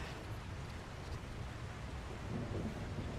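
Thunder from lightning rumbles in The Last Caretaker video game, a low continuous roll mixed with rain noise, fairly faint and distant, swelling slightly near the end.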